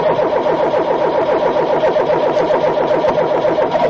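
A car engine cranks and runs with a steady, loud mid-range rumble and rhythmic pulsing throughout, no voices.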